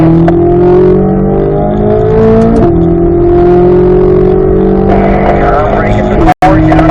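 A car accelerating hard along a race track toward a corner, its engine note climbing loud and close in steady rising sweeps, with a brief shift in pitch midway through.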